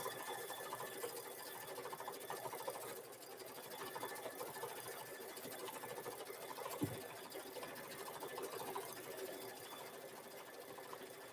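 An embroidery machine stitches out free standing lace with a quiet, steady, rapid whirring and needle chatter, continuous and fairly faint throughout.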